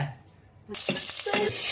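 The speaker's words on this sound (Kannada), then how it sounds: "ಈರುಳ್ಳಿನಾ ಒಗ್ಗರಣೆಗೆ ಹಾಕ್ರಿ" Onions go into hot tempering oil in a home kitchen. After a quiet moment the sound bursts into a loud, bright sizzle that keeps building, with a few stirring clatters along the way.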